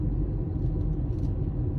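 A car driving up a snowy mountain road in Olympic National Park, Washington, heard from inside as a steady low engine and road rumble, no talking.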